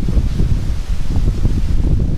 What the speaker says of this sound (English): today was windy as fuck